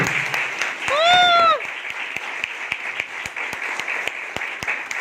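Audience applause at a business team event fills the whole stretch as steady, moderately loud clapping, while a short vocal shout or cheer rises briefly over it near the start.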